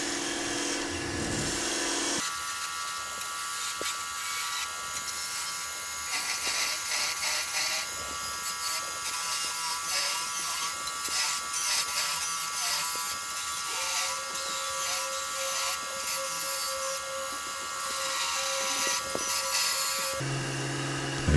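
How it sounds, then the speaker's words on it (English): A skew chisel shaves wood on a spinning lathe while shaping a bead for a crochet hook or knitting needle, giving a continuous close whirring hiss with a steady hum and small scraping variations, no speech. "let's roll that bead over. It's going to go with a smaller skew to do that"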